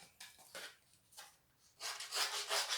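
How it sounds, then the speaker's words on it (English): A tool scores along the edges of a small handmade notebook to roughen them, making short scratchy rubbing strokes in a few bursts, then a longer, louder run of scraping near the end, close and with no talk. "score along here a little bit just to roughen those edges"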